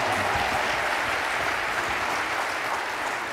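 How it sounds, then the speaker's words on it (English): Dense, steady applause from a conference audience at a payroll professionals' panel, continuous and evenly loud from start to finish with no voices over it. "Give him a round of applause."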